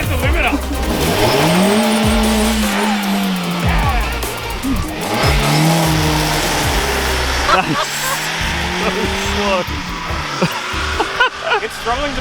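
A highly tuned Hyundai Getz hot hatch, a 10-second car, accelerates hard with its engine revving loudly through rising pitch sweeps and gear changes, with tire squeal and excited voices heard over it.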